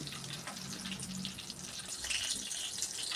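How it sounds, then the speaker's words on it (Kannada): Chili bajji fritters fry in oil over a low to medium flame, giving a soft, continuous bubbling sizzle with a slightly watery texture, fairly faint and without speech. "ಲೋ ಟು ಮೀಡಿಯಮ್ ಫ್ಲೇಮಲ್ಲೇ ಎರಡೂ ಕಡೆಗೆ ನಾನು ಹೊಂಬಣ್ಣ ಬರುವಂಗ ಫ್ರೈ ಮಾಡಿಕೊಂಡು ತೆಗಿತಾ ಇದ್ದೀನಿ"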